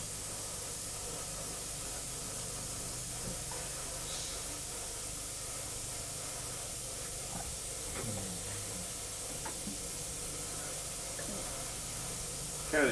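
Continuous steady hiss of an airbrush compressor spraying paint, a constant close noise with a few faint clicks and knocks in the background and no talking.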